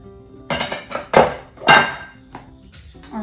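Dry sugar and flour being mixed in a bowl for traditional Armenian gata with butter crumble filling, heard as several loud scraping clinks of a utensil against the bowl in an uneven rhythm, with no talking.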